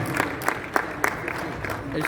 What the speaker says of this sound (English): please give a round of applause to all followers, the president, past chair, and the joint members of the council